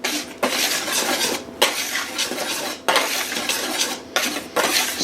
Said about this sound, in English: you're just going to whisk it to make sure the salt and the flour are incorporated into one another